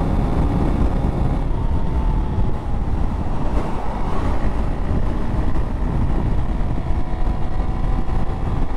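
A Honda CRF300L motorcycle runs flat out at about 70 mph, its engine drone buried under heavy, constant wind roar rushing past the rider, steady throughout with no clear gear change.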